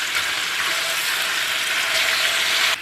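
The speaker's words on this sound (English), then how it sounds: "I'm just gonna brown up this chuck roast on all 4 sides of my pieces here." Chuck roast pieces searing in a hot pan, a steady, loud broadband sizzle of frying meat that holds evenly throughout with no talk.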